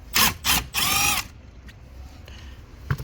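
Cordless power drill whirring in three quick bursts, the last one longest, while removing side screws behind a dash panel on a 2001-2005 Honda Civic; close and loud, followed by quiet garage room tone.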